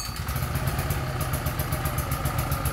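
Small GE 3000 P petrol generator engine running steadily, a rapid chugging putter with mechanical clatter, close and fairly loud.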